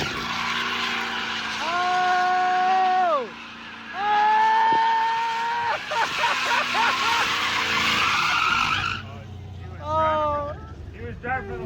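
A Cadillac Blackwing drifting in circles, its tires squealing in long sustained wails broken by brief gaps, with engine roar underneath and people talking over it.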